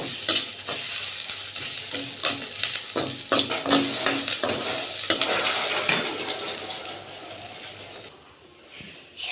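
Cumin, cloves and chillies frying in a pan, a continuous crackling sizzle broken by repeated scraping stirs of a spoon against metal, then quieting near the end.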